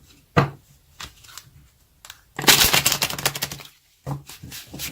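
A tarot deck is shuffled up close: a few sharp single card snaps, then a dense riffling burst of fluttering clicks, followed by another brief tap, with no talking.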